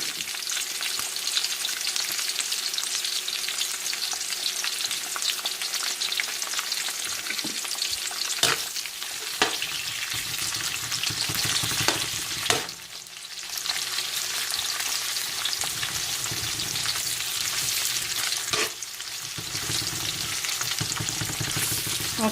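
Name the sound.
red onions sautéing for humba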